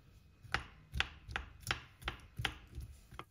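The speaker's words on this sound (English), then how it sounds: "And then I'm cutting up more onion, this time just a regular one, a carrot, and some celery" A knife chops onion, carrot and celery on a board in a steady rhythm of about eight close, crisp strikes, each a short thud with a sharp click.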